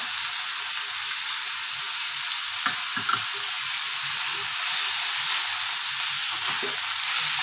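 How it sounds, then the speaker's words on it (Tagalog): Chicken with seasoning and black pepper sizzles and fries steadily in a pan while being stirred, with a loud continuous hiss and a few scraping stir noises near the middle. "Sutay lang natin para kumapit yung lasa dyan sa ating chicken"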